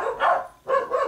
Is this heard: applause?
no